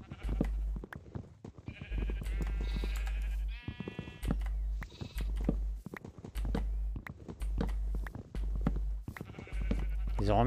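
Sheep in a video game, played as a hardcore solo survival world, bleat repeatedly: a steady run of nasal, wavering bleats, close and fairly loud, mixed with soft hoof-like tapping.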